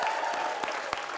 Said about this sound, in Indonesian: Kita kasih tepuk tangan buat Saiki, Bang.